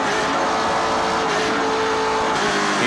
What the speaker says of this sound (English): You hear Malcolm Strawn burping the throttle just a little bit just to keep up with the driver of the Mopar Dodge.